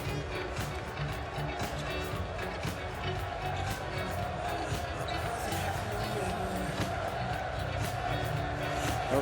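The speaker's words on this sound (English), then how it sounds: "This crowd here in Lille, it is massive." A massive basketball arena crowd in Lille at a Eurobasket 2015 semifinal between Spain and France, a loud continuous roar with ball bounces and squeaks beneath, while a commentator talks over it.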